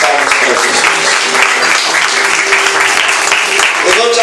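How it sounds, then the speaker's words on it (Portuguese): A church congregation claps loudly and steadily during a worship service, dense continuous applause filling the room with voices mixed in beneath it. "Bem forte as suas palmas para Jesus."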